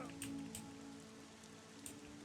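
Rain in the fantasy game Monsters & Memories, set in a magical desert: a soft, steady patter of drops on surfaces with a few faint louder ticks, low and continuous with no talk over it.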